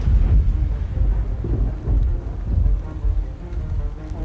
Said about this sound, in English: There's rain now pouring down off the rock.